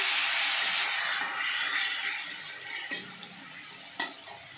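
Ground spice paste sizzles in hot oil over crackling cumin seeds, a loud hiss at first that gradually quiets, with a couple of sharp spoon clinks on the pan near the end.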